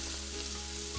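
A sous vide sirloin steak sears in a hot pan, giving off a continuous close, loud sizzle and crackle that holds steady without talk.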